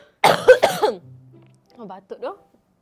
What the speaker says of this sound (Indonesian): Oh, batuk tu.